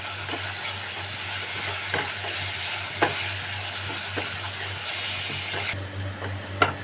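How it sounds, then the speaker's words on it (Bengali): Fried potatoes sizzle as they are sautéed with spices for papad dalna, a constant frying hiss broken by periodic spatula scrapes against the pan and a low background hum. "এই আলুর সাথে মশলাগুলো এবারে ভালো করে আমি একটু কষিয়ে নেব"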